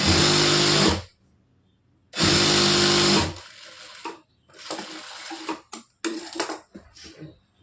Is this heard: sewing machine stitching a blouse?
yes